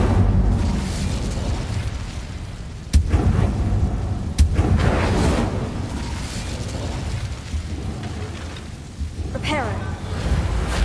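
In Hogwarts Legacy, the Incendio fire spell is cast in gameplay, with bursts of crackling, whooshing flame and sharp impact hits over a dense, loud game soundtrack while a voice speaks at times.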